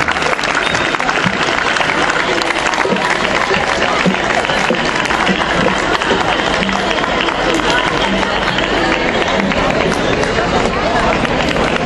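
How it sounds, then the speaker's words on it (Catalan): Loud, sustained applause from a large crowd, steady clapping and cheering throughout with a dense wash of noise. "Un fort aplaudiment per a ells"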